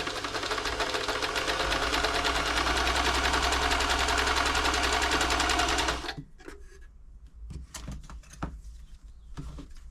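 A New Home 641 sewing machine runs a zigzag stitch, a fast, even mechanical whirr with a rapid needle rhythm, loud and close for about six seconds before stopping, followed by a few soft clicks and handling noises.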